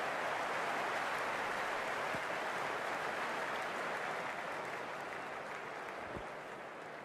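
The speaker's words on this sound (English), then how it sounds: "this crowd is already making it hard for me to be heard" Stadium crowd noise in the cricket video game Cricket 26, an IPL match between KKR and RCB, with a steady broad roar of cheering filling the whole stretch and easing slightly toward the end.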